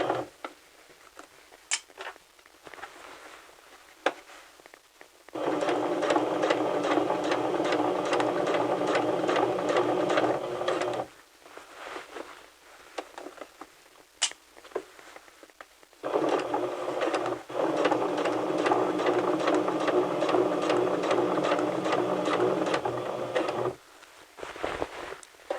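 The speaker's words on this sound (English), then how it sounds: "Lower my needle and stitch forward, staying in that groove on a straight line." A sewing machine runs forward along a straight seam in two sustained bursts of steady, fast stitching, each lasting several seconds with a quiet pause between, close and clear with no talk.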